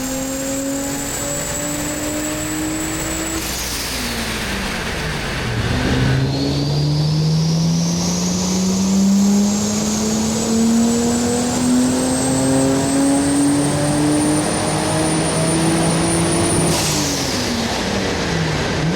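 The 500HP V6 engine of a Vauxhall Adam VXR howls loud and close as it accelerates hard. Pitch climbs through long pulls, drops at gear changes and rises again for nearly twenty seconds.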